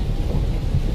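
Heavy rain pours with thunder rumbling through it on the Chandsaili ghat mountain pass at night. It makes a loud, dense, steady roar with deep low rumbling across the whole short stretch, and no voices are heard.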